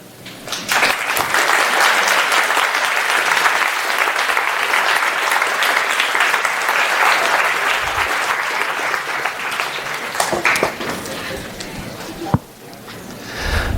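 Sustained audience applause fills a room after a senior thesis talk on computing consciousness, dense and steady for about ten seconds before thinning into scattered claps and a few voices.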